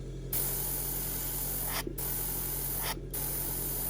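Archive-X acrylic paint sprayed from an airbrush onto tape as practice overspray: a steady close hiss that runs almost continuously, broken by two brief pauses, with no talking.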